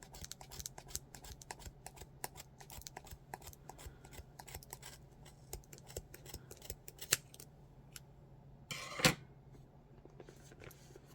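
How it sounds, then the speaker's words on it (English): Scissors snipping lengths of yarn, a long run of quick, crisp little cuts close by, fairly quiet, ending with one louder snip near the end, no talking. "hold it in place while you snip the rest of these"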